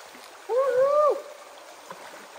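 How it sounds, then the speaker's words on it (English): A cold river runs past during a hiking crossing, a steady soft rush of flowing water, briefly topped by a short high tonal cry near the start. "All right, first river crossing."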